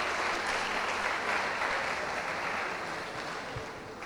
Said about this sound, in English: let's give a resounding clap to our invited guests and officials that join us